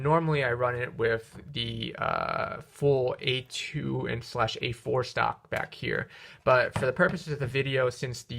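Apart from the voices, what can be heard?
No everyday noises stand out.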